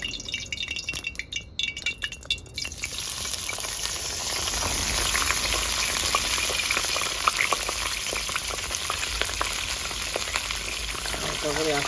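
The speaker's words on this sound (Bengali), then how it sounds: "তেলটা গরম হয়ে গেছে। এবার বাঁধাকপিটা দিয়ে দেবো।" Shredded cabbage hits hot oil in a pan and sizzles steadily, a dense frying hiss that rises after a few seconds of quieter clinks and stirring and continues loud to the end.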